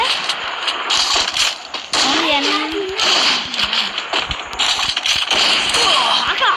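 A sniper rifle, an AWM, fires during a ranked Clash Squad match in Free Fire, a sharp shot amid busy, loud game effects and a voice talking over the action.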